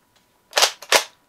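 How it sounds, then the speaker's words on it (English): Two sharp toy-blaster shots from a new Nerf gun fire in quick succession, loud and close, each a snappy burst with no talk over them. "by the way, I got a new Nerf gun."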